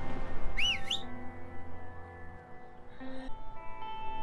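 A short warbling whistle sounds twice in the video game A Way Out, a wavering trill followed by a briefer tone, over quiet low background ambience.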